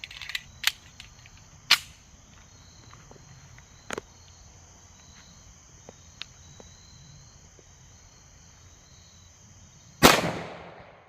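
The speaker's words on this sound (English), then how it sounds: "Let's get to shooting. All right, 1911 goes first," A 10mm 1911 pistol firing Grizzly 180gr JHP rounds into a ballistics gel block gives a few sharp cracks, several faint and spaced apart, then one loud close shot near the end.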